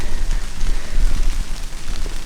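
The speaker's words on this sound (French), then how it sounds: "la pluie tombe à grosse goutte visiblement là quand même." Heavy rain falling in big drops through a forest gives a dense, steady patter and hiss. It stays loud and close throughout, with no voices.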